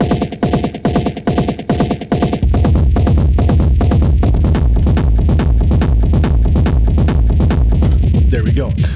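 Industrial techno drum sound: a high rumble layer processed with delay, reverb and saturation, starting as separate pulsing hits, then a dense, continuous driving roar with steady rhythmic transients, loud and alone.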